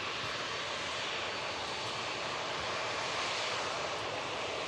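A TUI Boeing Dreamliner taxiing in at an airport right after landing, giving a steady broadband jet engine roar and whine heard from a distance.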